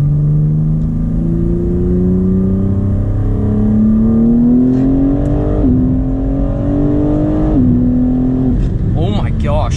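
A BMW G80 M3 with a Stage 1 tune accelerates hard in third gear, its engine note climbing loud and steady. Two quick shift dips follow as the revs keep rising, close up from inside the cabin.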